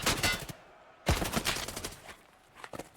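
Grenade blast and bursts of gunfire in a tactical shooter video game, with a loud impact at about one second followed by dense rapid shots, then scattered sharper reports near the end.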